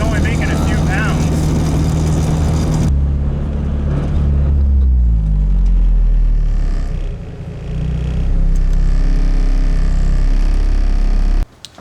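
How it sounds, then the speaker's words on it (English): Turbocharged K24-swapped Nissan Cefiro revving hard and pulling away, a loud, close engine roar with rising and falling pitch sweeps that settles into a steady drone as the car moves off. "All right, Stu's taking off"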